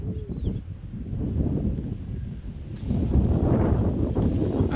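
Steady wind buffeting the microphone on the summit of Mt. Parawan, a low rumbling gust that swells louder partway through, with no voices.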